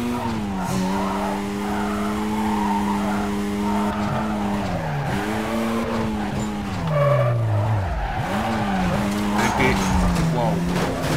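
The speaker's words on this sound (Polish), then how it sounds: "Auto w ogóle nie chciało wpaść teraz w poślizg." A car skids and drifts hard in the Need for Speed Carbon racing game, its engine note rising and falling in long sweeps while tires squeal continuously and loudly.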